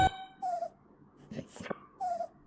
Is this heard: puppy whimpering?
yes